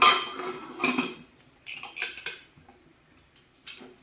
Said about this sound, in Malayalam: നമുക്ക് കുക്കർ അടയ്ക്കാം.